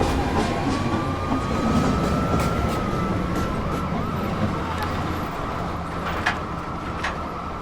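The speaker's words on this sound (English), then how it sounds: "Downtown. Local 1 train. Approaching the station." A downtown local NYC subway 1 train pulls into a station in the video game OVERHAUL NYC SUBWAY, a steady rolling rumble with a thin whine that rises and then eases, with no talking.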